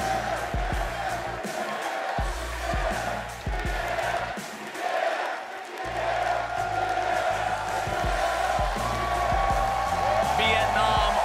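Arena crowd at the 2022 League of Legends World Championship group stage match between DRX and GAM Esports, a broad steady roar of cheering throughout, with music pulses and an announcer's voice over it.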